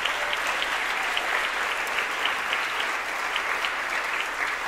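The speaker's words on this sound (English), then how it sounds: "Yeah, give them a round of applause." Steady, full audience applause fills a concert hall at a jazz ensemble performance, honoring the theater crew, even and continuous throughout with no talking over it.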